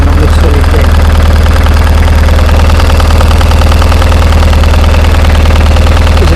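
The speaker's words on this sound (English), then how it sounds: "the other problem I found was a ticking throttle body" A BMW 1150 GS motorcycle engine idles steadily up close, its deep, even throb carrying a quick, regular ticking from a faulty throttle body that runs through the whole stretch.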